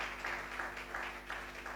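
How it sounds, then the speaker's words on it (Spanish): A church congregation claps together in applause at a Thursday worship meeting, a steady, moderately distant patter of many hands with soft swells, no voices on top. "Dele un aplauso a ese padre."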